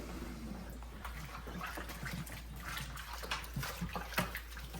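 Goat meat for Jamaican curry goat is rinsed under running water in a kitchen, making a steady, fairly quiet splashing and trickling with irregular sloshes as the pieces are rubbed and turned.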